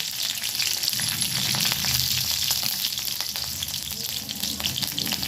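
Black cumin seeds and green chilies fry in hot oil in a pan, giving a steady, loud, close sizzle with faint crackles and occasional stirring throughout, with no voices.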